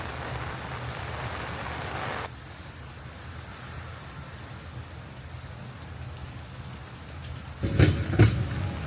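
Rain pours steadily on a surface along a seaside walking path, loud at first, then softer after a sudden shift, with a few sharp knocks and clatters near the end.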